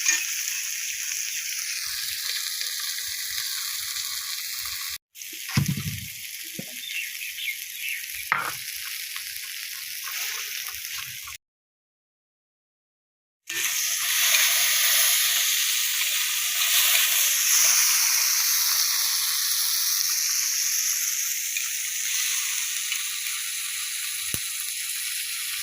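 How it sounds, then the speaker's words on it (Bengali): Salted hilsa fish with turmeric fries in hot oil, giving a loud, continuous sizzle that runs almost throughout, broken by one short silent gap and a few stirring clinks. "ইলিশ মাছটা ভাজা ভাজা হইব, তারপরে ডাটাগুলা দিয়ে দিব।"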